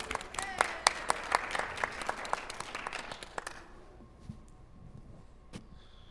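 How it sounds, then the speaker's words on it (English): A church congregation applauding for Steve, a dense round of clapping for about three and a half seconds that thins to a few scattered claps and room noise. "Everybody give Steve a round of applause"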